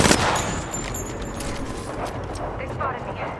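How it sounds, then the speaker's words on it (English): Video game gunfire in a team shooter match, a dense continuous burst of shots running the whole time beneath voices talking over it. "I'm taking shots. Firing."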